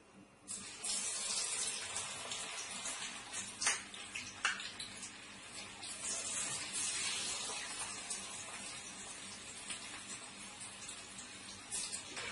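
Cauliflower pieces for gobi manchurian drop into hot oil and fry with a loud, steady sizzle that swells briefly as more pieces go in, with no talking.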